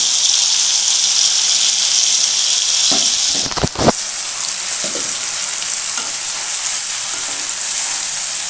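Broad steady sizzle of spice paste hitting a hot pan while mutton keema cooks, a continuous loud frying hiss with a few brief stirring clatters partway through.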